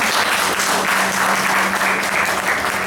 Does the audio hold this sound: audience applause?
yes